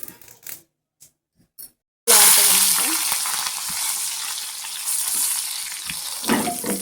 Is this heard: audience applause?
no